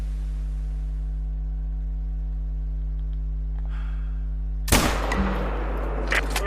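A single rifle shot in a hunting game rings out suddenly after a long steady hum, followed by a short crackling echo and faint scattered clicks.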